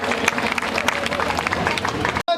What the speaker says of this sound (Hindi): एक बार पुनः जोरदार ताली बजा करके अभिनंदन करें